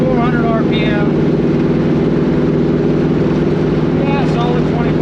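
Chevy Nova wagon engine with a 700R4 transmission cruising at a steady 2400 RPM, a loud continuous drone heard from inside the car, with brief speech-like chirps above it.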